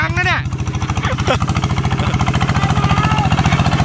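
A motorcycle engine pulses in a loud, close, rapid chugging rhythm during a wheelie, while a voice calls out briefly at the start over the mechanical throb.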